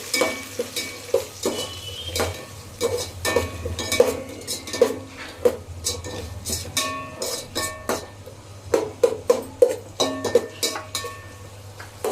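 Onions are stirred in a cooking pot for chicken biryani, with repeated scraping clinks of a metal spoon against the pot over a low, constant sizzle, close and without talking.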